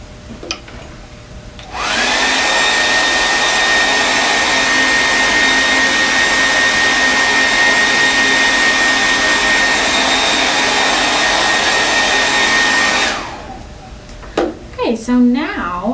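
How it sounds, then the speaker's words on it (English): A hair dryer roars steadily for about eleven seconds while blow-drying an acrylic painting of golden peaks, loud and close, with brief talk and handling noises before and after it. "I'm gonna just blow dry one last time."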